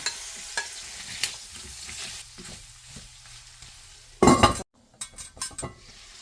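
Pork with ginger, garlic and onion sizzles and fries in a pan for a simple paksiw bangus with pork belly, with stirring scrapes and utensil clinks over steady frying and a loud burst near the end.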